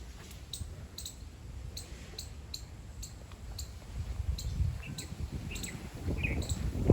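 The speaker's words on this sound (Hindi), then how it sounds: "बिल्कुल पक्षियों की आवाज़ आ रही है।" Small birds chirping in a large, quiet green park beside a road, with short high tweets scattered steadily over a low rumble of outdoor background noise that grows slightly louder toward the end.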